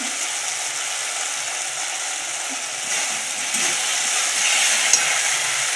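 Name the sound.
sautéing spices in a pan for egg curry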